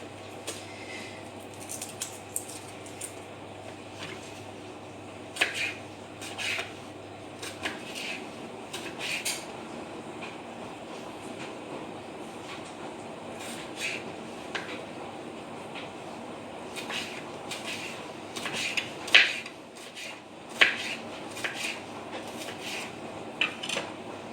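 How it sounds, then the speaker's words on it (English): Garlic is crushed and chopped with a knife on a cutting board: a close, intermittent run of sharp taps, clicks and short scrapes over a quiet background, with no talking. "crush the clove between the knife and the board carefully"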